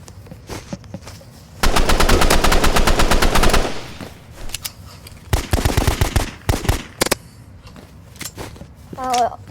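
Rapid automatic rifle fire in the Roblox video game, a loud sustained burst of about two seconds followed by shorter bursts and single shots, with players talking over it.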